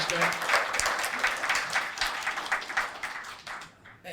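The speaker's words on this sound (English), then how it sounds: "let's give the panel a round of applause" Audience applause at a payments conference session as a panel finishes, a steady patter of many hands clapping close by that tapers off toward the end.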